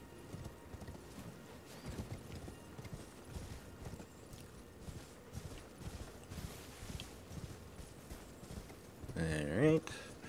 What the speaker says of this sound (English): now that I've figured out how the jumping physics on this horse works a little bit better